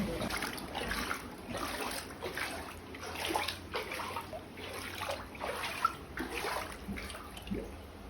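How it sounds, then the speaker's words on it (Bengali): Floodwater from heavy rain flows into a house, a soft, continuous trickling and splashing stream heard quietly and steadily throughout. "সবার ঘরে জল ঢুকে গেছে"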